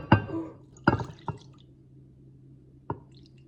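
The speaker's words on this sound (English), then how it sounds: "let's just pour it into this bowl." Melted candle wax poured into a bowl over a squishy toy: a few sharp wet splats and drips, a cluster near the start and one more later, close and fairly loud against a quiet low hum.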